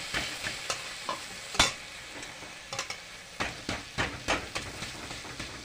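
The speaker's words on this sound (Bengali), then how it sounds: "এখন মিশিয়ে নেব, ভালো করে থেতো থেতো করে মিশিয়ে নেব।" A utensil stirs and mashes boiled papaya in a frying pan for a vegetarian fry with spices, making soft irregular scrapes and knocks over a faint sizzle, close and fairly quiet.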